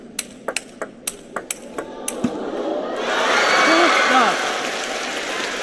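A crowd erupts into loud cheering and applause at a table tennis World Cup 2024 match between Fan Zhendong and Lin Gaoyuan, following a sharp run of ball knocks from a rally. The roar swells and holds, with commentary faintly underneath.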